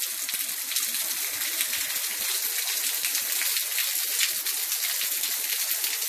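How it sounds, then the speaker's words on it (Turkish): Sudden rain falls outdoors, a dense, steady patter of drops hitting surfaces, continuous and fairly close with no talking. "Bir anda yağmur geldi"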